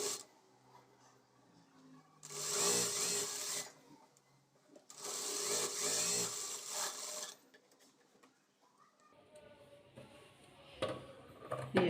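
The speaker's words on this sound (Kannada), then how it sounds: "ಈ ರೀತಿ ಡಬಲ್ ಫೋಲ್ಡ್ ಮಾಡಿಕೊಂಡು ಸ್ಟಿಚ್ ಮಾಡ್ಕೋಬೇಕು." A sewing machine stitches double-folded blouse fabric in two loud, steady runs of a couple of seconds each, separated by quieter handling noise, with a softer rustle near the end.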